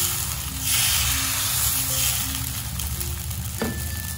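Dosa batter poured and swirled onto a hot tawa for a crispy masala dosa, a steady soft sizzle and hiss close by that swells briefly as the batter spreads, over faint background music, with no talking.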